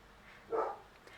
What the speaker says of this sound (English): Sistinian is barking